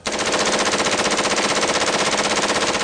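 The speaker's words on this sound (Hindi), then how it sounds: "ताबड़तोड़ गोलियों की आवाज जरूर सुनाई दी।" Rapid automatic gunfire rattles continuously, loud and dense, with no pauses for about three seconds.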